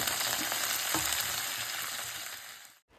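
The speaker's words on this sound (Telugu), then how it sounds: "మనం తరిగి పెట్టుకున్న కొత్తిమీర ఉంది కదా కడిగి తడిపి ఆరినది ఇది వేసి వేయించుకోవాలి" Washed, dried, chopped coriander leaves fry in a pan for an amla coriander pickle. A dense, steady sizzle carries occasional stirring scrapes before it cuts off abruptly near the end.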